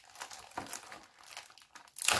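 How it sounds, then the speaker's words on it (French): Sealed plastic packaging on a clapperboard being torn open by hand without scissors, close crinkling and crackling in short irregular bursts, ending in a louder rustling tear. "Je vais le déballer pour qu'on regarde un petit peu."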